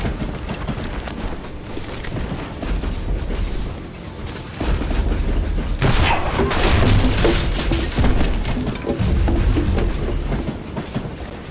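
A video game train from Call of Juarez: Gunslinger rumbling along rails with rhythmic clacking and mechanical clatter, loud and continuous, growing heavier partway through.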